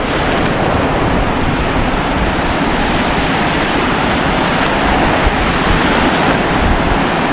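Loud, dense rushing water roars continuously close by, a steady broadband churn like a strong stream or waterfall.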